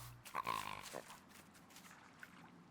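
A cute pig in the video game The Last Campfire gives a short burst of grunts and oinks near the start, then the sound fades to a faint, quiet background.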